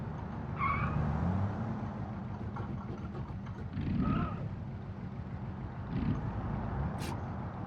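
The Autobello Piccolo car engine runs in a video game with a low, steady rumble at modest volume, broken by a few brief higher-pitched tonal sounds.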